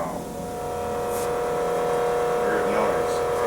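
A Delta 23-197 bench grinder motor runs with an odd, out-of-balance noise: a steady, close electric whine with layered tonal hum and a faint buzzing edge, holding at an even level throughout.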